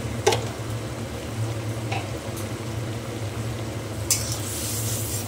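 Fish curry in a pan as turmeric and spices are stirred in, a soft continuous sizzle and simmer with a few sharp utensil taps against the pan, no talking.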